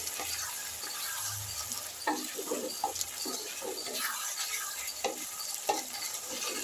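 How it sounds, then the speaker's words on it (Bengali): Chopped coriander is stirred into a papaya curry in a pan, with a constant close sizzle and soft, irregular scrapes and squelches from the spoon working through the thick mixture. "ধনেপাতাটা আমি খুব ভালো করে এখানে মাখামাখি করে দিচ্ছি"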